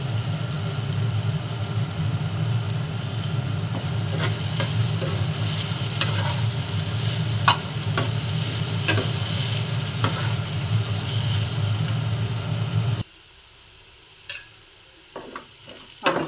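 Chili powder fries in oil for egg pulao, a loud steady sizzle with intermittent metal stirring clinks that suddenly drops away near the end, leaving a few isolated knocks.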